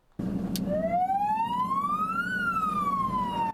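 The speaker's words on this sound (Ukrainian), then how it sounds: "Під гучну сирену і на великих швидкостях пожежне авто долає затори на одеських вулицях" A fire engine siren wails with a rising, then slowly falling tone over the rumble of city traffic jams in Odesa and a running engine.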